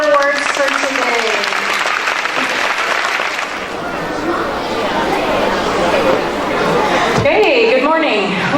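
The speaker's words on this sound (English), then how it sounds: "Can we clap for all of our awards for today?" Students and staff at a school assembly applaud loudly for award winners, a full room of clapping mixed with crowd chatter and voices that rises again near the end.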